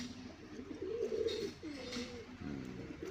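A Jalali pigeon coos in a low, rolling series of soft burbling calls, fairly close, with a brief pause before a second cooing phrase over light background noise.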